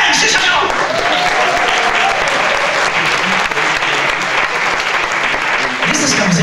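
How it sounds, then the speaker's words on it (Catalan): Loud, dense audience applause fills a live stage show, a steady wash of many hands clapping that holds for about six seconds with no break. "Fort d'aplaudiments, sí senyor!"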